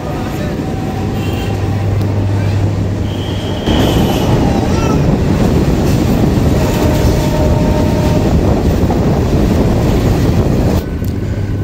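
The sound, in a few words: local passenger train running on rails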